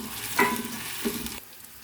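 Chopped onion and crushed garlic frying in oil in a pan, a soft steady sizzle with a couple of stirring scrapes, close and alone.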